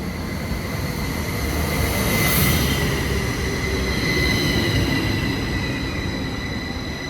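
Train at a railway station on a France to Switzerland journey, heard as a loud, steady rolling rumble with high wheel squeal tones running through the whole stretch.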